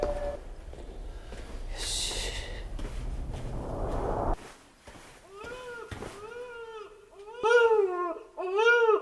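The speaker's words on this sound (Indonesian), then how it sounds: "Agung mendengar suara tangisan bayi dari dalam loker" An infant wails from inside a locker in a dim horror-film corridor, rising in a series of strained, wavering cries after a burst of rumbling noise, loud and close near the end.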